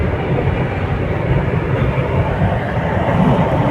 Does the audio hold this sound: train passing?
yes